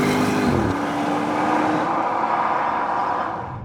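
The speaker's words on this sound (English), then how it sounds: "This just rumbles and rumbles and rumbles in such a gorgeous way" A Porsche Cayenne GTS Coupe's V8 with a lightweight exhaust gives a loud, steady rumble close by. A brief rising note fades into a sustained deep burble that tails off slightly at the end.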